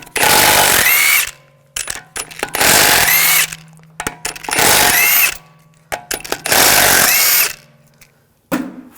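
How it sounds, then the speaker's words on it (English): A power tool with a 17mm socket spins lug bolts off a 2006-2009 Audi S4 wheel: four loud, sustained whirring bursts with short pauses between them and no talking. "Using a 17mm socket, we're going to take the lug bolts off."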